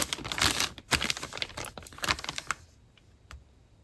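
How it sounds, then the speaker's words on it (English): Self-adhesive laminating sheets crinkle and crackle in a dense, close burst of sharp rustling that tapers off into a few isolated crisp snaps. "these self-adhesive laminating sheets. Sorry for the crinkling."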